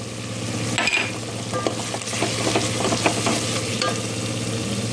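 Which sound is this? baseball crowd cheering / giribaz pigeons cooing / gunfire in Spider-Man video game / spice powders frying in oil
spice powders frying in oil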